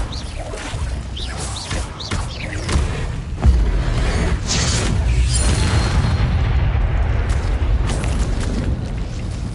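Incendio fire spell cast in Hogwarts Legacy, a burst of booming, roaring flame and explosive whooshes that swells and then settles into a sustained rumbling blaze, loud and close.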